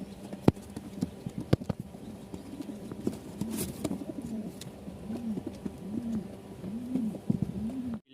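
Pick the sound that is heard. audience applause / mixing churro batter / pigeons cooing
pigeons cooing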